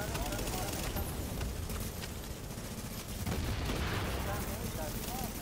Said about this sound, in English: I just threw a grenade.